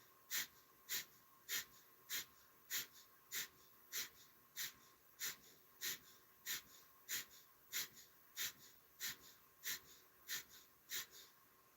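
Rapid, rhythmic breaths from a guided yoga breathing exercise, about eighteen sharp, evenly spaced exhales pulsing steadily at close range with no talking.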